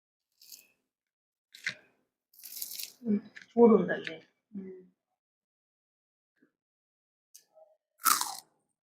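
Crispy homemade onion bajji crunches in sharp, separate bites, a few loud crackling chews close to the mic with quiet pauses between them.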